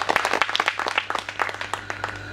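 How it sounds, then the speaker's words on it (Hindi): Audience at a Hindi poetry recital event clapping: dense, fairly close bursts of many hands overlapping in a lively, uneven patter, with no talking. "एक बार जोरदार दोनों हाथ उठा के तालियां बजाएं"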